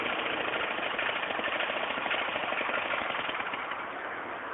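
A small engine on a homemade mole killer runs continuously with a harsh, rapid buzzing putter, close and steady throughout, with no talking.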